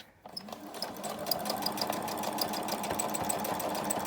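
A sewing machine stitches over fabric at a quick, steady pace, its needle ticking rapidly and evenly over a low motor hum, close and fairly quiet.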